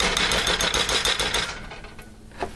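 Loud, crackling sizzle of potato patties frying in a hot pan, dense and steady before easing slightly toward the end.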